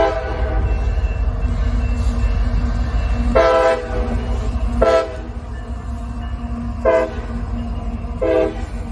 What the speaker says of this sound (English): It was a northbound grain train with a very friendly crew and a Mack rebuild trailing.